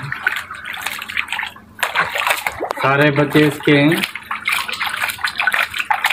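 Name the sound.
water splashing while bathing a rabbit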